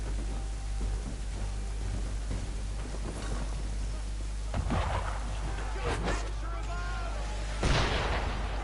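Ship cannon fire at sea in Assassin's Creed III, a few scattered booming blasts with splashes over a constant low rumble of wind and water, fairly quiet overall with the loudest hit near the end.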